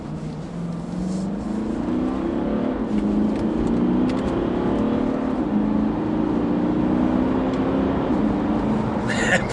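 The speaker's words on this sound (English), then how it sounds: "So I can stick it into manual flappy paddle gear shift mode, and actually the downshifts are really very crisp." A Porsche Cayenne S V8 diesel pulls hard under acceleration in Tiptronic paddle-shift mode, its engine drone climbing steadily and shifting pitch with gear changes, heard from inside the cabin as a continuous rumble.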